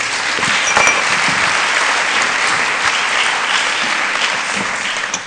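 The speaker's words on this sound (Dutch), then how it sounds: "Applaus voor onze gasten." Steady, dense audience applause fills a debate hall on harassment of women in Amsterdam, loud and continuous for about five seconds, tapering slightly at the end.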